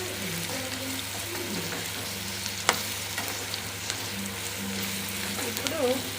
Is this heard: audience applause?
no